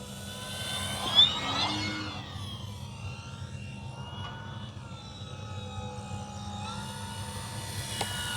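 An E-flite T-28 Trojan V2 radio-controlled model airplane with a 1.2 m wingspan flies overhead with its landing flaps down, its electric motor a steady drone that rises and falls as it passes.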